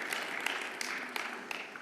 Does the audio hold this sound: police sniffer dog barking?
no